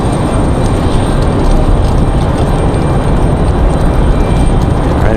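An American Airlines Airbus A319 jet at Raleigh-Durham airport on a windy day produces a loud, steady broadband roar that holds without a break, mixed with gusting wind.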